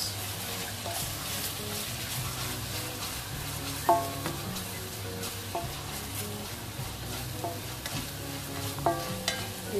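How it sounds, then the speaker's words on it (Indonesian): Ingredients stir-fried in coconut oil for chicken wing and feet curry vermicelli, a steady close sizzle with spatula scrapes and occasional metallic taps on the pan, no talking. "tumis masukin semua kita tumis"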